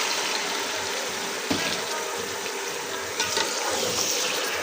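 Running tap water pours steadily while two kilograms of chicken are washed in a home kitchen, a continuous hiss with a few splashes and clatters, moderately faint.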